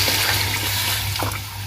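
Water is poured into a pot of fried curry, a steady splashing pour close by against kitchen background hum.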